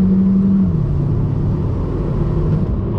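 A 2020 Kia Soul GT-Line pulls on throttle in third gear, a loud, steady low engine drone and road rumble filling the cabin, holding constant with a faint rising tone and no talk.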